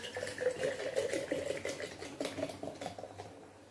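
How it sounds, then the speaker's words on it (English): Chilled apple drink is poured into a cup, a close, continuous trickling and splashing with faint clinks, steady for a few seconds before tapering off. "let me pour it inside my cup."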